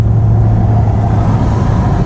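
A car engine runs loud and close with a steady low rumble, holding an even pitch throughout.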